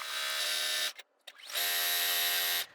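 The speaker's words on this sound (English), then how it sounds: "we're just going to sew on our borders" A sewing machine runs steadily as it stitches a quilt border, a loud continuous whir that stops briefly for about half a second and then resumes at full speed, with no talking.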